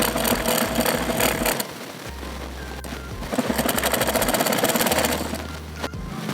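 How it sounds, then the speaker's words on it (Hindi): Sewing machine running steadily while stitching over a blouse lining, a continuous close mechanical whir with rhythmic needle chatter that pauses briefly partway through, then resumes. "इस पर भी हम अस्तर के ऊपर से सिलाई लगाएंगे"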